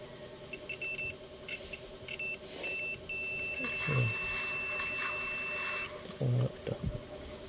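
A multimeter in buzzer mode gives steady high beeps, some short and one held for several seconds, while a Bluetooth speaker's circuit board is tested; someone talks faintly in between.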